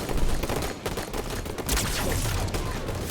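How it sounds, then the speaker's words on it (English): Dense, continuous Halo 5 gunfire fills a competitive multiplayer match, with rapid overlapping shots and blasts crowding the whole stretch. "Nice shots out of Nikolai to kind of clear out this hill"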